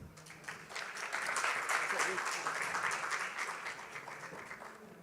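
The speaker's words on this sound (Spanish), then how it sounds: "Démosle un fuerte aplauso." Applause from an audience at a talk greeting a speaker, dense clapping that swells to a peak and then gradually thins, heard close and filling the room.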